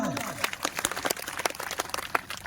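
Audience at a political rally claps in a burst of scattered, uneven handclaps, fairly close and moderately loud, with a voice audible at the very start.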